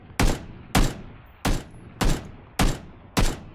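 Six evenly spaced single gunshots in PUBG, each a sharp loud crack with a short decaying tail, fired about every half second with no talk.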